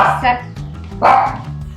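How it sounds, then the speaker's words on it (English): A pet dog barks twice, close and loud, with the two sharp woofs about a second apart and faint voice under the sound. "my dog says hi"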